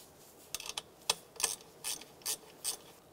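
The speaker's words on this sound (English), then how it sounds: "I'm going to go ahead and tighten down our nut right here." A ratchet tightens a 10 millimeter nut on the air intake of a 2001–2005 Honda Civic, giving about eight short, close clicking bursts in an uneven rhythm against a quiet background, with no speech.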